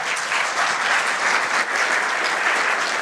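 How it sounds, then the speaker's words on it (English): Steady applause from a conference audience for a panel discussion on the affiliate industry after mergers and acquisitions, a dense, even wash of clapping sustained throughout without pause. "a big round of applause for our panel."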